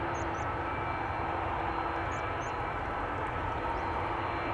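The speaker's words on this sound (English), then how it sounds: "BA landing here, flight 430 arriving from London Heathrow" British Airways flight 430 from London Heathrow landing at Amsterdam Schiphol, a steady broad jet engine roar held at an even level throughout, heard from a distance with no talk.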